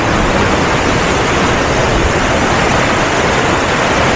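A shallow, gently sloping river near chalets behind a zoo, heard as a steady, dense rush of flowing water that stays loud and unchanging throughout, with no voices.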